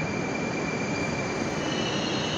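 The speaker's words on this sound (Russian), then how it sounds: "А на этом пути поезда в сторону делового центра и Рассказовки." Moscow metro train at Savyolovskaya station on the Big Circle Line, a loud, steady rumble of rolling carriages and rails filling the platform without a break and with no speech.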